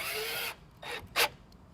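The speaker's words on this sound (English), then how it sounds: "I'm going to use some self-tapping screws." Self-tapping screws are driven into a metal L bracket for a clamp-on trolling motor mount: a sustained whirring drive followed by two short bursts, close and fairly loud, with no speech.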